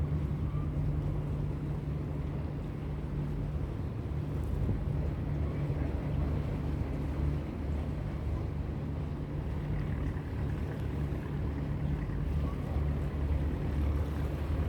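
A transport boat engine off an island in Hong Kong chugs with a steady low drone across the water, constant and moderately distant, with faint wind noise over it.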